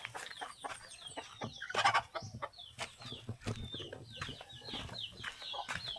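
A tethered chicken clucks repeatedly nearby in short, uneven bursts, with a louder squawk partway through.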